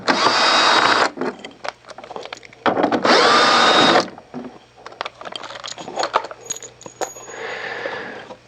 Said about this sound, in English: Using a 3/8 inch nut driver, remove the 4 bolts that hold the upper housing to the rear.